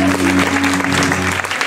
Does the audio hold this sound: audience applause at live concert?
yes